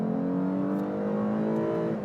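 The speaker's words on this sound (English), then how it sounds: "It sounds almost supercharged. It has like a whiny characteristic to it." Lexus IS 350 with a 3.5-liter V6 revving in manual mode, a steady, loud engine drone heard from inside the cabin, the pitch sliding gradually downward with a faint whine, no speech.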